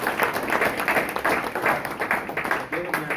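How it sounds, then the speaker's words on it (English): Warm round of audience applause at a company information session, many hands clapping in uneven surges, fairly loud and close, with some voices mixed in near the end. "Can we give them a nice warm round of applause?"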